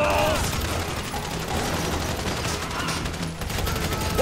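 Rapid bursts of automatic gunfire crackle through a Grand Theft Auto V firefight, dense and continuous with booming impacts, while a character shouts over the shooting.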